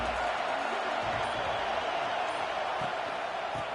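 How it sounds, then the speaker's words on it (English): A college football stadium crowd at a Notre Dame game roars in a steady, distant wash of noise, with faint thumps underneath and a commentator's voice laid over it. "This crowd ready to make its presence known."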